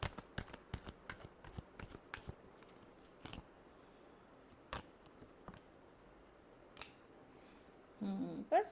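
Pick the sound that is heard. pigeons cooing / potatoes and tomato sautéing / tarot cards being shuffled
tarot cards being shuffled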